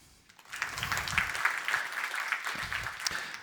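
An audience at a talk breaks into scattered clapping, starting sparse and building to a moderate, uneven patter of many hands at some distance.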